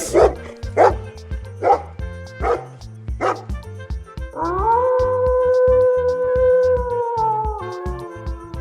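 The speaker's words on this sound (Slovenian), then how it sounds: "Pes." A dog barks five times in a steady rhythm, loud and close, then a long drawn-out howl follows and holds to the end, with no talk.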